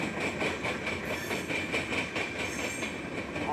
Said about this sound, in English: there is actually a train lined around the Y